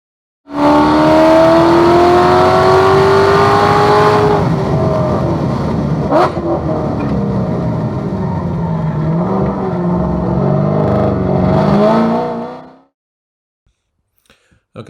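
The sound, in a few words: car accelerating down back straight at M1 Concourse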